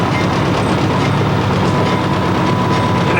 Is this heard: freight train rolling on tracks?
yes